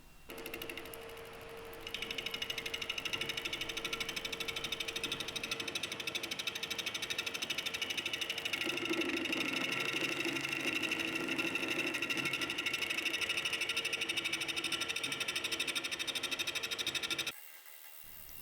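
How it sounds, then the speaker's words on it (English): A lathe trims glued-on tenons on a stone workpiece, giving a steady, loud whirring, chattering mechanical drone with gritty scraping that runs almost the whole time before cutting off abruptly near the end. "So I'm just going to trim up these glued on tenons."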